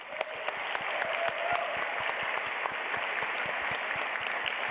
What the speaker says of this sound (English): Can we get another round of applause for everyone here?